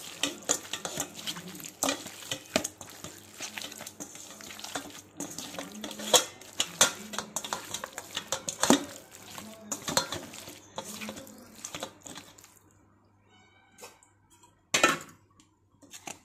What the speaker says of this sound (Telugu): ఇది మొత్తం శుభ్రంగా కలుపుకోవాలండి